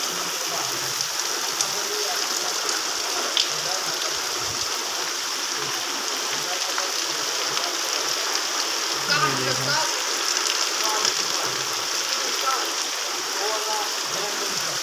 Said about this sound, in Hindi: अभी भी बारिश बरस रही है, पानी का सड़क पे जमा हो गया है